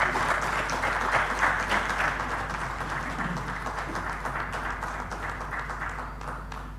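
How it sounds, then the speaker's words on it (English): An audience at a governance lecture breaks into sustained applause after a speech, a dense wash of many hands clapping that fades slightly toward the end, with little talk. "Please give him another round of applause."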